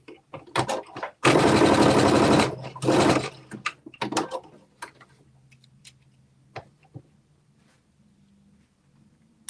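A domestic sewing machine stitching fabric while sewing a top and pants into shorts, running in two loud close bursts of rapid stitching separated by a short pause, with quieter clicks of the pressure foot and fabric handling around them.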